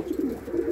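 A domestic pigeon in a breeding loft gives a short, low, throaty coo, close and fairly soft, rolling in two quick pulses.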